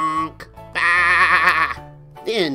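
A narrator's voice imitates a farm sheep's bleat in a children's story. A loud, wavering, drawn-out "baa" comes up close, then a shorter honking call follows.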